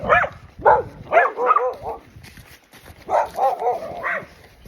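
Dogs bark in a village, several short bursts of yapping and woofing close by, with quieter gaps between and faint background noise.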